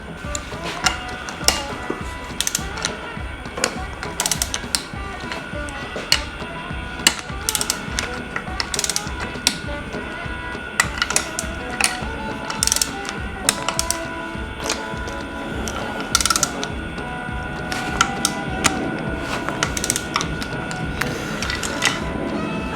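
Torque wrench clicking and ratcheting on the engine bolts of a Yamaha YFZ450R quad during a top-end rebuild, a steady run of sharp, close, repeated mechanical clicks with no talking.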